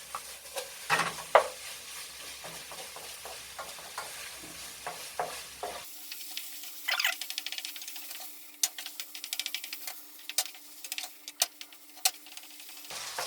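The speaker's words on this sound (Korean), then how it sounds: "자, 그러면 이제 양념을 잘 섞어줍니다. 재료와 함께." Cheap pork hind leg being stir-fried with seasoning sauce and vegetables makes a quiet sizzle under repeated clicking and scraping of a utensil stirring the pan, close and irregular.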